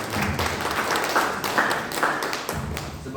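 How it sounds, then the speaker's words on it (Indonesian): A church congregation applauds together, a steady wash of many hands clapping that fills the room at moderate volume with no voices over it. "Mari kita berikan tepuk tangan terlebih dahulu"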